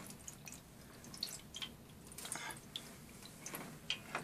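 Water drips and trickles in a quiet, irregular patter while the last of it is drained by hand from a washing machine that won't drain, with small ticking drops throughout and no talking.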